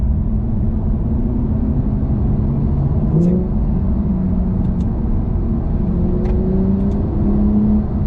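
Porsche 992 Turbo S engine and exhaust heard from inside the car as a dense, steady low rumble with slight shifts in pitch, loud and continuous under the talk of the occupants.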